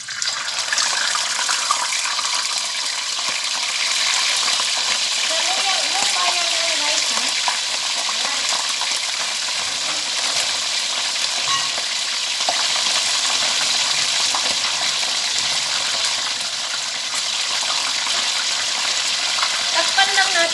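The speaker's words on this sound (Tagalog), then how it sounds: "iprito na natin yung isda natin" Fish frying in a hot pan for a spicy dish, a continuous loud bright sizzle and crackle that holds steady throughout, with a little faint background noise.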